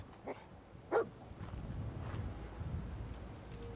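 A dog in Fallout 4 gives a couple of short, faint barks, spaced apart over a low ambient game background with wind-like hiss.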